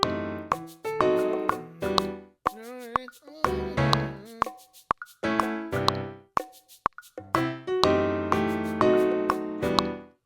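Piano part quantized to eighth-note triplets plays alone and clearly, a run of distinct struck chords and notes in an even, bouncing triplet rhythm with brief gaps between phrases.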